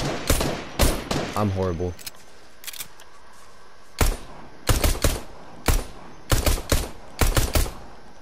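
Gunfire in the Fortnite video game comes as sharp single and paired shots spread across the clip, loud and close, with a person speaking briefly between the early shots.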